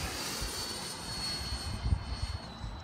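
A 90mm Viper Jet model turbine jet flies over an airfield, giving a steady, fairly distant roar with a thin high whine that swells slightly toward the end.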